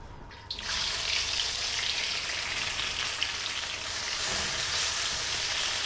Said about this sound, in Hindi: ऑयल गर्म होने पर हमने इसमें डाले हैं टमाटर।